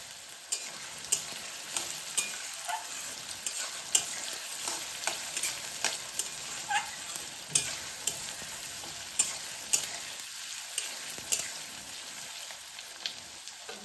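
Paneer fries and is stirred in a pan for a light browning: a steady close sizzle runs throughout with regular scraping and clinking strokes of the spatula, no voices.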